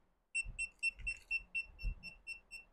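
A cheap anti-lost key finder alarm beeping after its button is pressed: a rapid, regular series of about ten shrill electronic beeps, close and clear, with light handling knocks underneath.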